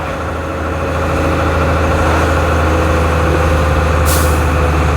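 Ford Cargo 0811 seven-and-a-half-tonne truck engine laboring up a steep hill, a steady loud low drone throughout with a brief hiss near the end.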